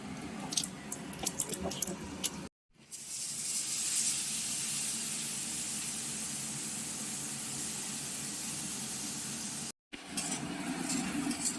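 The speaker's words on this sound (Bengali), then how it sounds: "ফোড়নের জন্য দিয়ে দেওয়া হচ্ছে কালো জিরে তেলে" Black cumin seeds tossed into hot oil for tempering, a sudden steady sizzling hiss that holds for several seconds, with faint kitchen clatter before and after.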